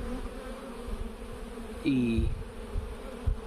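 Honey bees buzzing at a beehive entrance as pollen-laden foragers fly in, a dense close hum with one bee droning loudly past midway, and a brief spoken word.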